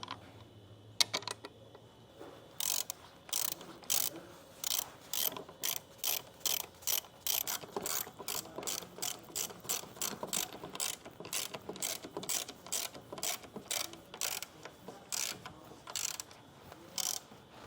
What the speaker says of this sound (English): thread your bolts back in to tighten this down